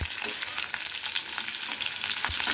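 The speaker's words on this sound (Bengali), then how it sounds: "ফুলকপিগুলো হালকা করে একটুখানি আমি ভাপিয়ে নিয়ে ভেজে নিলাম" Lightly steamed cauliflower florets fry in hot oil in a pan, giving a steady close sizzle and crackle with small spits and pops throughout, and no voices.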